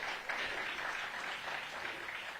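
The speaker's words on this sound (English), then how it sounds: "How about a cheer for Mayor Bowser?" Crowd applause with cheering greets Mayor Muriel Bowser at a public school enrollment announcement, a steady, dense wash of clapping that holds at an even level for the whole stretch with no talk over it.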